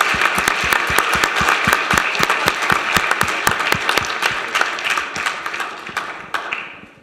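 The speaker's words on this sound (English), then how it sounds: "Get one more round of applause." An audience at a city council meeting applauds a group of Boy Scouts, with many crisp individual claps standing out in a fairly steady rhythm, gradually thinning and fading toward the end.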